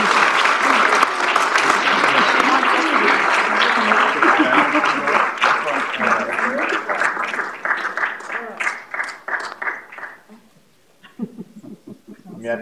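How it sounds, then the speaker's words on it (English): Audience at a city council meeting applauds loudly and steadily, the clapping thinning out toward the end as scattered claps and a few voices remain. "Let's give them a round of applause."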